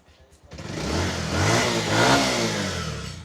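A Bajaj Pulsar motorcycle engine revs up loudly after a quiet moment, the throttle swelling and easing back in a sustained roar.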